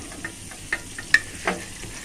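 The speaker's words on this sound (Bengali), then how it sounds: "এক হাতে না নাড়াটা দিতে অনেক কষ্ট হয়ে যায় নাড়া দিতে" Food being stirred in a frying pan at home, a few soft scraping clicks of a spoon against the pan spaced out over a faint sizzle, quiet and close.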